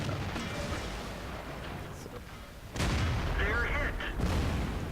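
Tank guns fire in an online tank battle game, a few heavy booms with a loud blast near the three-second mark over constant engine rumble and battle noise.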